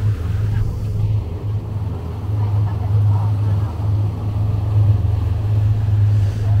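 A speedboat carries passengers near Naka Island, its engine a steady low drone under strong wind and water rush, loud and continuous throughout.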